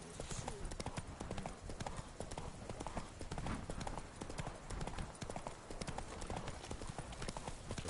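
Roach, Geralt's horse in The Witcher 3, gallops in steady, rapid clip-clopping hoofbeats that carry loud and close throughout, with a voice speaking over the running.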